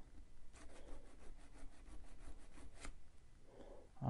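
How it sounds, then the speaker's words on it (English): A basic needle file rubbing plastic on a Vauxhall flip key, heard as faint, close, quick back-and-forth scraping strokes in an even rhythm for a few seconds. "all I've got is just a basic needle file"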